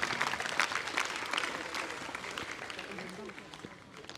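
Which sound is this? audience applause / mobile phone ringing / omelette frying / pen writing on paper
audience applause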